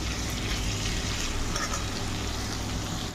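Sliced onions frying in hot oil on a gas stove for birista: a steady, dense sizzle that stays at the same level throughout and stops abruptly at the end.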